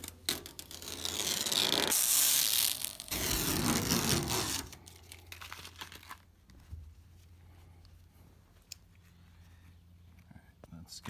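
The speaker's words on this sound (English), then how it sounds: "We're gonna pull the tape and see how it looks." Masking tape peeled from polished car paint on a panel, long rasping tearing strips in two bursts, close and loud, then quieter handling noises with a voice speaking.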